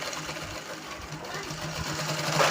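Sewing machine stitching a long frock, a close, steady low mechanical hum with a rhythmic needle beat, running continuously for a few seconds.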